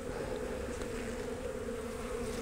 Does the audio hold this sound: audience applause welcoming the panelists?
no